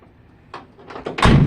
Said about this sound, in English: the rear doors. I have got them opening.